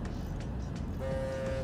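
Ship horn in the game Captain of Industry, a steady tonal honk that enters partway through over a dense, constant background hum of game ambience.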